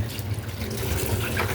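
Water pours and splashes steadily while seafood is rinsed after the vinegar is drained off, a close, continuous trickling wash with no break.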